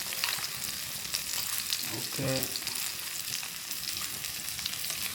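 Five or six green chillies for a spicy coconut chammanthi fry in hot oil with a dense, steady sizzle and a brief stirring clatter. One short spoken word sits over the frying.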